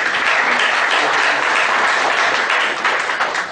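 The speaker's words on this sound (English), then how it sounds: "Friends, please welcome with a round of applause." A crowd applauds steadily, dense clapping filling the space at a constant loud level with no voices over it.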